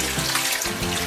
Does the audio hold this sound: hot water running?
yes